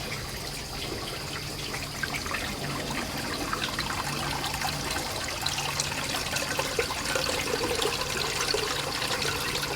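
Water pours steadily into a terracotta plant pot, a continuous splashing and trickling stream heard up close with no voices.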